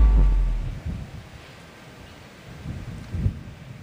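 Strong typhoon wind roars and gusts against the microphone with rain in the background in Santa Ana, Cagayan, loud, rumbling and uneven.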